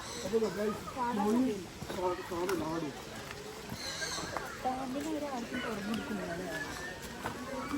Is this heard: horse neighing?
yes